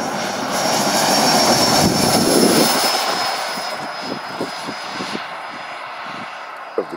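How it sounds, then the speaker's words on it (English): A radio-controlled scale Saab J35 Draken jet takes off in the desert at a dry lake, its turbine roaring loud and steady, then fading into the distance as a few faint clicks and thumps sound nearby. "So this is Saab Draken. Taking off."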